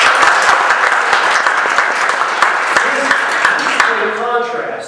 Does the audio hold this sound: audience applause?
yes